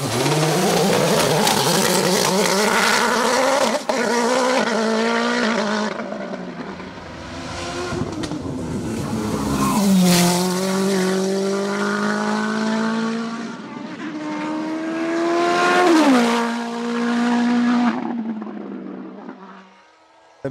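A Nova Proto NP01 Turbo race car at a hill climb at La Pommeraye, the engine screaming loudly through repeated upshifts and rising revs, then dropping back between gears as it tears past.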